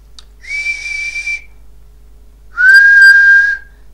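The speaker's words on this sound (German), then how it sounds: "Der Schaffner pfeift." A conductor's whistle on a train platform gives two loud, sustained shrill blasts, the second slightly lower and stronger, with a short quiet gap between them and no talk.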